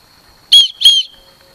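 A survival whistle clipped to a Victorinox Swiss Army knife sounds two sharp, shrill blasts in quick succession, loud and close, over a quiet steady background tone.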